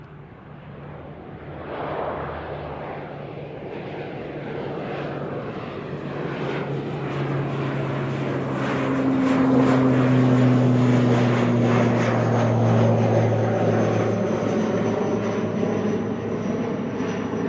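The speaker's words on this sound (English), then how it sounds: "So just departing is NZ57822 to Aotearoa." A fixed-wing airliner departs Christchurch Airport, its engine roar swelling steadily over about eighteen seconds with a low droning hum, fairly loud and continuous, with no talking.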